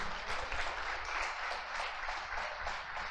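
A church congregation applauds during a worship service, a broad, continuous wash of many hands clapping at moderate loudness with no talk over it.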